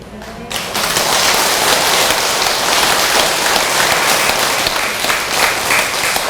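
Full-room applause at a Buddhist dharma assembly, a brief voice at the start giving way to dense, steady clapping from a large congregation that holds loud and even.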